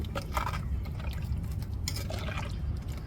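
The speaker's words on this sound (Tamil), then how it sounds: "இப்போ நம்மளுக்கு தேவையான அளவு கொஞ்சம் தண்ணி வச்சுக்கிடுவோம் மீன் குழம்புக்கு." Water pours steadily into a cooking pot for a rock fish curry with drumstick, a soft continuous liquid splash and trickle heard close and alone, without speech.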